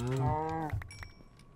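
A cow in the video game Minecraft gives a single low, drawn-out moo, followed by a few quiet clicks and thuds, no voices.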